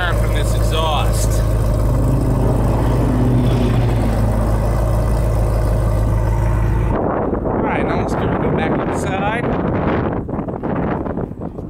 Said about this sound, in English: Very nice sound from this exhaust.